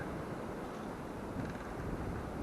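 Strong wind roars steadily through a hardwood forest as one loud, unbroken, close rush of noise that buffets the microphone, with no voices.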